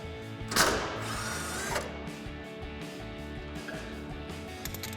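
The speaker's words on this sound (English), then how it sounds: "So we'll take a 19mm socket and take that out." A 19mm socket works a bolt loose from the inside of a truck frame rail during a Silverado bumper install, with a sharp ratcheting burst early on, then steady mechanical clicking and rattling at moderate distance.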